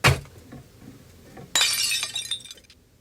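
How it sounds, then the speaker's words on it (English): A sharp impact opens the clip, followed by a sudden burst of glass shattering and scattering fragments that tinkle and fade out, heard alone without speech. "Something fell and shattered."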